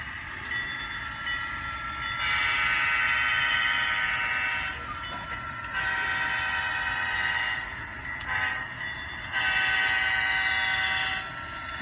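Bachmann N scale CSX CW40-8 and GP40-2 model locomotives pull a string of Intermountain AutoRacks, a steady mechanical hum with horn-like tones that swell in and out in several long stretches.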